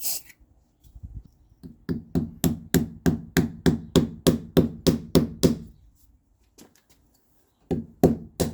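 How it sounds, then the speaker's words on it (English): Hammer blows strike a part of a Vyking Force retractable water hose reel, a steady run of about fourteen sharp evenly spaced knocks, then a pause and a few more hits, close up with no talk. "this broke when I was trying to hammer it in"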